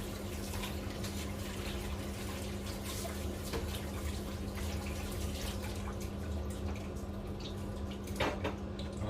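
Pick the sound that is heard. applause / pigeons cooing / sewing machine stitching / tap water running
tap water running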